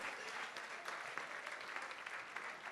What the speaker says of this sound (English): Let's give mothers a round of applause.